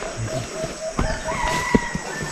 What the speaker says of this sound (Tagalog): So may narinig kami doon na manok